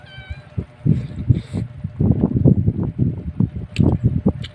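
Several cats meow repeatedly in short, overlapping calls close by, with a faint clink or two in the background.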